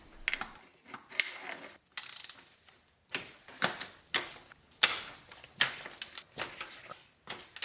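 A ratchet wrench removes spark plugs from a 1980s BMW E24 635 CSI engine, sounding as close, crisp clicking bursts in an irregular series of short strokes with brief pauses between.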